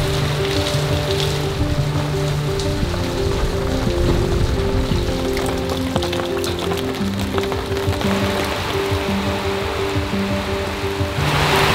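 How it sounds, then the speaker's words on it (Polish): Rain falling in the Central African Republic, a constant splashing hiss of drops on surfaces mixed with trickling water, steady throughout, with faint tonal background hum and no clear talk. "stary, to jest deszcz, to jest życiodajne, to jest woda, nie?"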